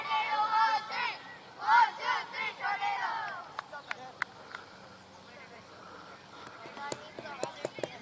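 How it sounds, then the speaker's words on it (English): Children of an under-11 cricket team called Tornado shout a team cheer outdoors, a few rhythmic chanted calls in unison followed by scattered claps and quieter chatter. "There's going to be the tornado cheer now before going back in again."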